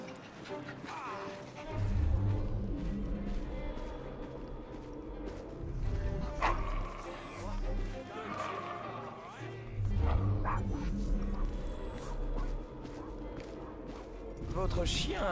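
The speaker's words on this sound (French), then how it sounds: "Votre chien a l'air fâché." In Assassin's Creed Syndicate, a dog barks in short, intermittent bursts and growls, mixed with street ambience and hoof-like clatter, while voices speak over it.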